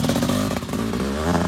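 A dirt bike engine revs hard during a sandy cross-country race round at Saint-Léger-de-Balizon. The dense, rough engine roar holds steady and loud, with some clatter.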